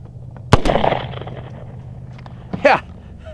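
Two sharp, loud shots from a C96 Mauser pistol with a trigger fault, fired outdoors toward a target plate, the first near 0.5 s and a second about two seconds later, over a low steady background hum.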